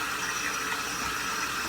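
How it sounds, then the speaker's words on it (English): Water poured into a cupcake baking pan in a home kitchen, a steady splashing trickle that runs throughout the short moment with no voices. "You just put some water in there."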